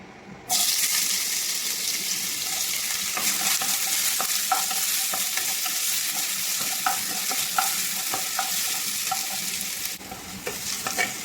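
Ginger sautés in a pan for chicken soup: a loud, continuous sizzle of hot oil starts abruptly, with scattered spatula scrapes and pops throughout and a slight drop near the end, and no talking.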